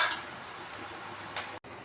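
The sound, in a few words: onions frying lightly in pan on medium flame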